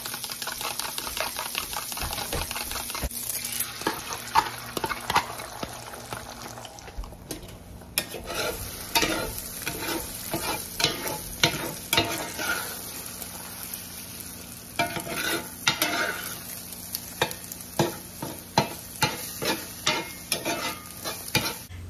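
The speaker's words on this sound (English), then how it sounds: "scrambled eggs" Scrambled eggs sizzle steadily in a frying pan while a utensil repeatedly scrapes and stirs them, producing irregular close scraping taps over a constant hiss, with no voices.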